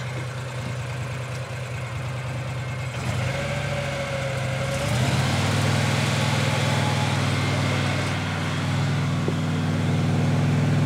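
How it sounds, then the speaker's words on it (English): An idling Mahindra Retriever 750 utility vehicle engine revs up partway through, its drone rising and holding at a higher, louder pitch. "Let me give her some revs."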